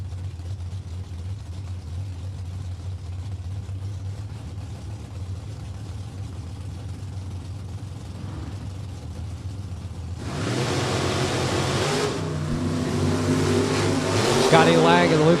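Drag-racing engines at a Maple Grove Raceway NHRA event, a 1967-bodied Chevy II and a 1973 Chevrolet Nova, roar loudly off the starting line, a steady engine drone rising into a sharp, swelling blast of acceleration while a commentator talks over it.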